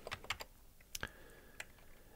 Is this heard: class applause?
no